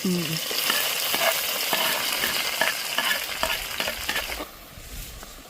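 Tomatoes frying in oil in a pan for tomato rice, stirred with a utensil that gives repeated scraping clicks over a steady close sizzle, which thins out toward the end.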